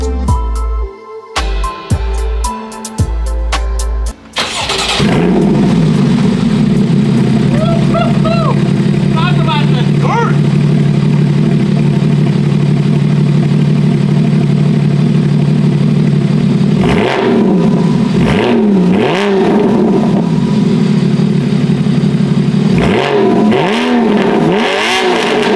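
A Porsche 981 Cayman S with an upgraded aftermarket exhaust gets its first cold startup: a sharp crank and catch, a loud settling idle, then several throaty revs blipping up and down near the microphone.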